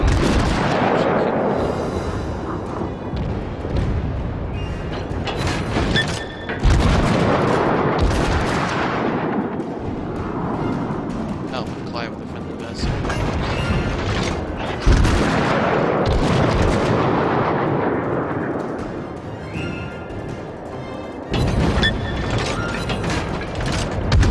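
Enemy gunfire in a tank battle video game: loud, repeated booming shots and mechanical clatter, dense and continuous throughout, with no talking.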